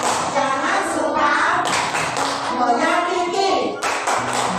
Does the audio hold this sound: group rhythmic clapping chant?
yes